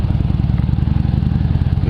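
Harley-Davidson motorcycle engine and exhaust idling with a steady, low, loping rumble and a dense pulsing beat throughout, close and loud, with a faint rattle on top.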